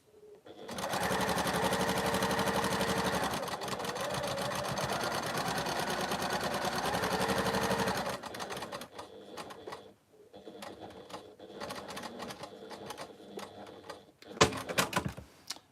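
A sewing machine runs steadily for about seven seconds, stitching anchoring stitches into fabric for an interlocking triangles patchwork, loud and close, then stops into quieter handling noises and a brief knock near the end.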